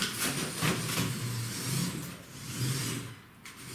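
A Lego Technic RC dirt buggy driving, its small motor whirring in rising and falling surges close by, with no talk over it.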